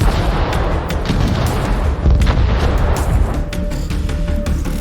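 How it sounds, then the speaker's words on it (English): The Imperator in a PC strategy game shelling from a distance, dense rumbling booms and cracks of artillery fire rolling on continuously with no talk. "the Imperator will bombard from afar and help you create breaches in enemy defenses"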